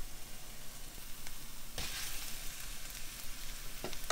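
Italian sausage sizzles faintly and steadily as it browns in a pan, with a soft crackle and a couple of light utensil taps.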